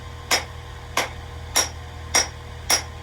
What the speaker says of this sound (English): or you can get another hammer, hit it upside down like that